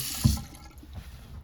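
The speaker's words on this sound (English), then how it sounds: "and then here's the sink water" Tap running into a hotel bathroom sink, a brief louder gush at the start settling into a steady, soft trickle of water, close by with no talking.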